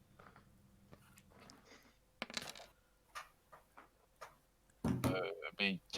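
Dice rolled during a tabletop Dungeons-and-Dragons-style game session, giving sharp clattering taps and tumbling clicks in a few bursts, close and fairly loud, with people talking around them.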